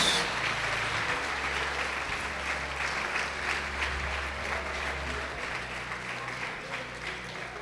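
Congregation applauding in church during a Portuguese-language sermon, a dense, sustained wash of clapping with steady loudness throughout.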